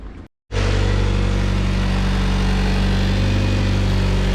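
A Honda CRX converted to all-wheel drive, with a coolant leak, fires up after a brief silence and settles into a loud, steady idle close by, its even engine drone continuing alone.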